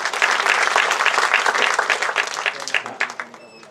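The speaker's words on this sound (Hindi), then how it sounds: "इनके लिए जोरदार तालियां।" Sustained audience applause at a stage event, a dense wash of many hands clapping for about four seconds that thins slightly toward the end.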